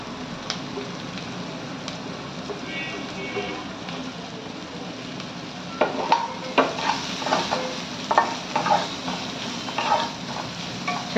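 Sliced carrots and cabbage stir-frying in a pan for veg hakka noodles make a soft sizzle at first, then rhythmic, close spatula scrapes and tosses take over in the second half.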